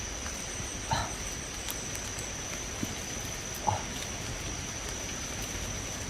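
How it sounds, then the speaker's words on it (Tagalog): Steady rain patters on a surface with a constant hiss, punctuated by a few faint, scattered knocks in the distance. "Mga tol, umuulan pa, no."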